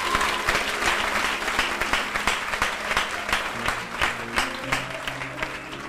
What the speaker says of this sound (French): Est-ce qu'on applaudit Jésus